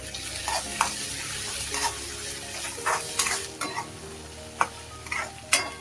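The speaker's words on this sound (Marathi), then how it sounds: "पुन्हा परतून घ्यायचं आहे।" Matki bhaji, sprouted moth beans, being sautéed with a spoonful of salt in a pan: a steady sizzle with a series of sharp scraping stir strokes, close and fairly loud, no voices.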